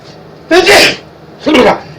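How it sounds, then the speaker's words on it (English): A person sneezes twice in quick succession, each one a sharp, loud, close burst about a second apart, with near-silence between them. "Oh, I gotta sneeze."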